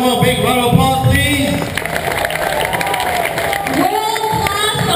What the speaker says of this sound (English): Let's give them one more big round of applause, please.